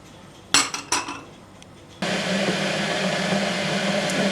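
A metal pot lid lifts off a pot of simmering red lentil soup with two or three sharp clanks, then a steady bubbling and hissing rises once the pot is open, close and fairly loud.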